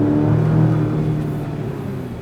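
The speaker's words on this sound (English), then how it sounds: "you just get a good sounding muffler without annoying the crap out of you" A GMC Canyon AT4X pickup fitted with a Magnaflow Overland exhaust accelerates, giving a steady, moderately loud low engine drone that holds throughout and eases slightly toward the end, as heard from inside the cab.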